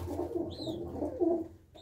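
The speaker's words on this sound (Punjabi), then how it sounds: "ਇਹ ਆ ਨੁਕਰੇ ਕਬੂਤਰ ਜੀ" Nukra pigeons coo softly at close range, a couple of low murmuring coos with a brief higher chirp, over faint background noise.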